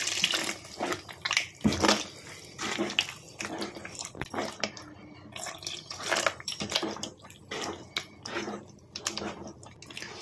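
Hot water is poured and stirred into urad dal batter mixed with rice flour for thin chakli pitha, giving close, wet sloshing and squelching in uneven bursts with no talking.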